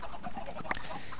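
Minecraft chickens clucking at a cooker farm, a few short squawky clucks over a steady low game ambience, with one sharper cluck standing out near the middle.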